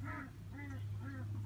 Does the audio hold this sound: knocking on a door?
no